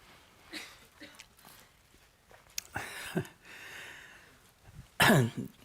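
A person coughs sharply and loudly near the end, after a stretch of quieter rustling and faint background noise.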